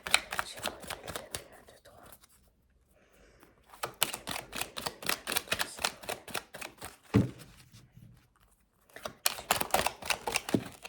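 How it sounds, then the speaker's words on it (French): Oracle cards being shuffled and drawn for a Gemini reading, heard as soft, close riffling and flicking bursts broken by short pauses and a sharp tap. "on va tirer une petite carte ici pour les Gémeaux"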